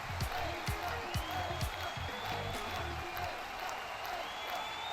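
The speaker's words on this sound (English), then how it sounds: "Round of applause for all the super chats today." Studio audience applause and cheering during a live streamed show, a steady wash of clapping with a few whoops, with a voice talking faintly underneath.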